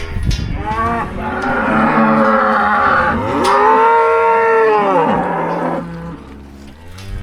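Grown-up cows on a farm moo loudly and close by, long drawn-out lowing calls overlapping one after another for several seconds, fading near the end.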